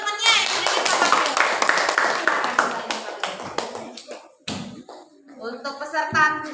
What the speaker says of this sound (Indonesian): beri tepuk tangan untuk teman-temannya yang sudah dipakai